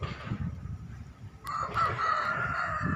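Chickens in a farm coop, a rooster letting out one loud, close crow partway through over a steady low bed of clucking and rustling.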